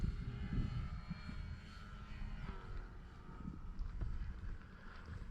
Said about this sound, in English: you can hear the vibration in the prop. You hear a more of a cutting of the wind